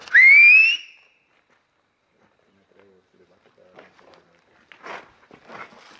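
A single sharp rising whistle rings out at the start, followed by quiet scuffs and faint voices in the background.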